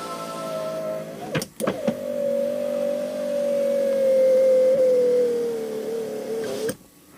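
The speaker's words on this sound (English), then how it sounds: "Window goes up and down nice." A Porsche 928 power window motor whines steadily in a garage after a window roller replacement, a single long drive of several seconds bracketed by sharp clunks as the glass starts and stops, close and clear.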